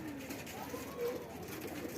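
Low, soft pigeon coos from seven local Bangladeshi pigeons murmur steadily on a roof in a quiet outdoor setting, with faint rustling background noise.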